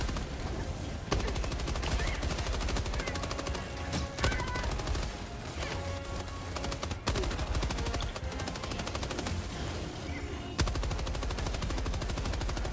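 Sustained rapid machine-gun fire in the shooter game Helldivers 2, loud, dense bursts running almost continuously with a few brief pauses and sharp blasts.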